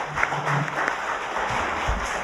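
An audience at a public forum on settling past historical injustices claps continuously, a dense, even patter of many hands lasting a couple of seconds with no voices over it.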